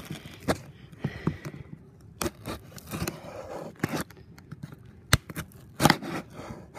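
A taped cardboard package is opened for unboxing, giving quiet scratching, scraping and tearing sounds with several sharp rips and crackles spaced irregularly, close to the microphone and with no talking.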